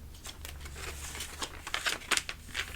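Scissors cut paper along a score mark while making a gift bag, giving close, soft crinkling snips in an irregular run that grows slightly busier toward the end.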